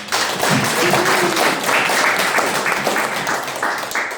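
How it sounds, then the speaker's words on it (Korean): A crowd claps steadily, a dense wash of applause that holds at an even level from start to finish. "현미경 만드신 분들을 위해서 박수 한번 해주시죠."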